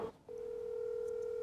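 Telephone ringback tone heard while calling a personal mobile phone: a short click, then a steady continuous electronic tone, fairly quiet and alone.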